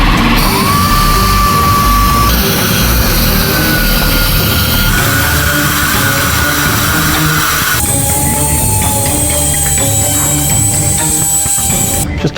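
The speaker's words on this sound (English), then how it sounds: "I'm just doing a little bit of touch-up sanding right now." Touch-up sanding on the routed edge of a handmade coin with a high-pitched rotary power tool, a steady loud whine that shifts pitch several times as it runs continuously throughout.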